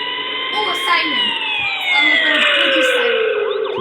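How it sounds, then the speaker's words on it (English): A police siren wails with long sweeping tones that slide steadily downward, fairly loud and continuous throughout, with faint voices in the background. "Police siren."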